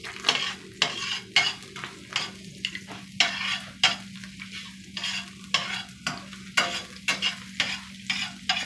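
Shallots, scallions and garlic sauteing lightly in olive oil for stewed peas, a steady soft sizzle broken by repeated scraping stirs in a regular rhythm, close and clear with no talking.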